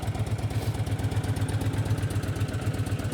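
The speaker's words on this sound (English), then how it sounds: "Starts right up. Very smooth running bike. V-twin sounds awesome." A 2006 Honda VTX1300R V-twin motorcycle engine idles close by with an even, loping low pulse and a faint mechanical clatter.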